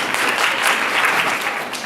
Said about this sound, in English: Give Anisha a round of applause